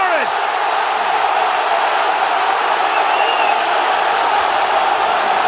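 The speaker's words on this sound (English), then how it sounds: "delirium from the supporters" A packed football stadium erupts for a Barcelona equaliser, a loud, continuous roar of supporters that stays steady and close throughout.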